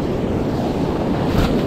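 Choppy ocean surf at low tide rushes in a steady, loud wash, blended with strong wind buffeting the microphone throughout.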